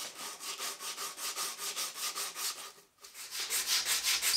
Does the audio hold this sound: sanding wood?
yes